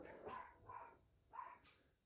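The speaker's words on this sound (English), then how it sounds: "my little doggies are barking at somebody passing by" Small dogs bark in three short bursts, fairly close, with brief pauses between them and no other sounds.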